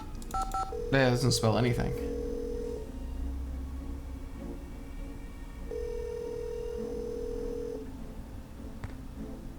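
A telephone in the Nancy Drew game Secrets Can Kill is dialed with a rapid burst of touch-tone beeps, then a steady tone plays. A voice speaks briefly over the tones.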